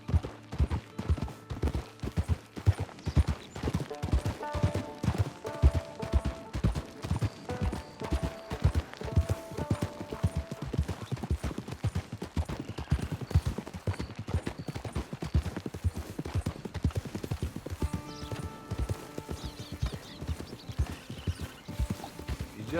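Horse hooves clip-clopping at a steady trot while riding through the open world of Red Dead Redemption 2 Online, a long unbroken rhythmic patter up close with a faint whinny and light background music.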